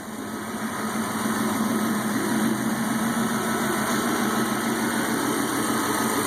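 A turbocharged V8 in a 1995 Dodge Dakota idles with the wastegate recirculated into the downpipe, a steady, close engine drone with a constant high whine running over it and no break.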